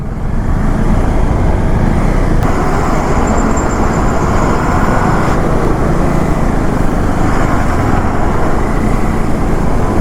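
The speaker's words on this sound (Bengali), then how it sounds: "কত ট্রাফিক।" Heavy road traffic near the Farakka Barrage heard from a motorbike, a constant loud roar of engines and tyres that stays dense and unbroken throughout.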